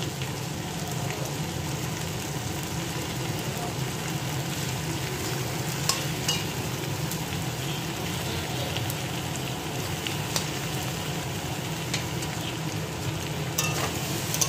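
A dish frying with garam masala powder and ghee gives off a dense, continuous sizzle, like steady rain, with occasional light stirring clicks, loud and close, with no voices.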